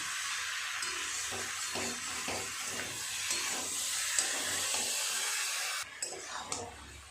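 Asafoetida (hing) tempering sizzles into a cauliflower curry with a steady, close hiss and a few faint clinks from a utensil. The hiss breaks off sharply near the end, with no talking.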